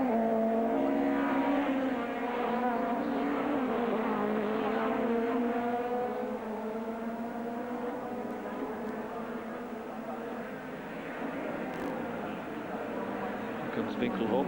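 BMW and Peugeot touring race cars battle through the Norisring street circuit in a 1997 championship round, engines revving and shifting continuously at moderate distance beneath a commentator's voice.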